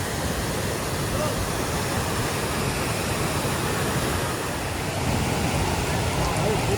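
At Mahabaleshwar, water pours down a stepped waterfall in a steady, dense rushing roar that holds without a break throughout.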